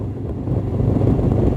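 A Honda NX500 motorcycle carrying a passenger accelerates hard at high revs, giving a steady, close engine roar mixed with rushing wind noise that swells slightly louder partway through.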